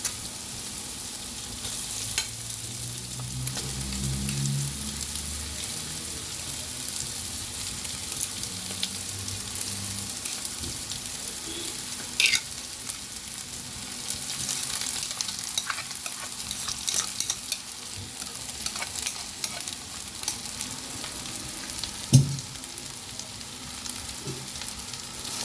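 Veg fried rice with tofu being stirred in a frying pan, a steady close sizzle with scraping and clacking stirs throughout, one sharp knock near the end, no talking.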